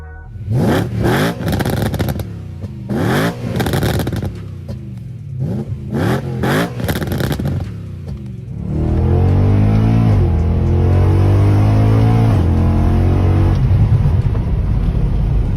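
BMW E93 M3 with an aftermarket exhaust, revved hard in a series of sharp blips that rise and fall, then held in a long steady high-rpm drone, loud and close with no talk.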